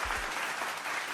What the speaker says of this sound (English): Warm round of applause, everyone.